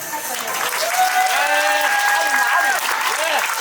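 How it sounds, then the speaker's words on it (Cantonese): Wedding guests clap steadily for the bride and groom at a Chinese-style wedding ceremony, a dense, sustained applause with a voice carrying over it. "大家俾啲掌聲祝福佢哋。"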